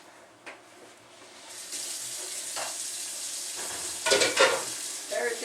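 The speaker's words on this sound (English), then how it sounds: "Put this in the sink and run hot water in it" Hot water pours into a kitchen sink, starting as a soft trickle and swelling into a steady rush with louder splashing and clatter toward the end, and no one speaks.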